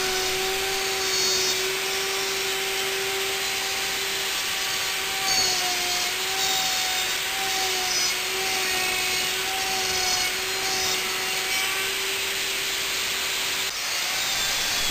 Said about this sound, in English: I use once again my slot mortising machine to make a straight cut between the 2 round holes.